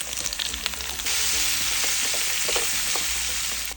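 Onion drops into a pan of frying bacon, and the sizzle jumps to a loud, steady hiss after a second of scattered crackling and utensil clatter, close up and with no one speaking.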